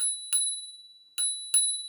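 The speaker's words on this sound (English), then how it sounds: "the most important part of every electrical scooter is, of course, a little bell" Three bright metallic dings from a small bell, ringing close by with clear gaps between strikes, each one fading quickly.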